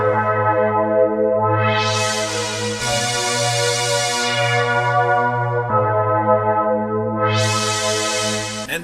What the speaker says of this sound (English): Next, I want that kind of big synth, like Juno synth